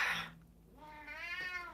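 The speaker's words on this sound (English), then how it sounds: "Who's meowing?" A cat meows twice, a short high call followed by a longer drawn-out meow, close and clear with no other sounds.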